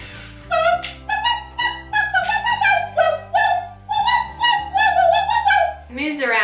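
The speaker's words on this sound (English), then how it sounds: "we got a little mechanical dog that barks and such" A small mechanical toy dog barks and plays a jingly electronic tune, its bright, steady beeping melody running close and loud for several seconds before ending in a short burst.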